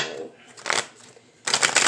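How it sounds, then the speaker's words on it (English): Kipper fortune-telling cards are shuffled by hand in two quick riffling bursts separated by a brief pause, close and crisp, with a little softer handling between them. "One last shuffle."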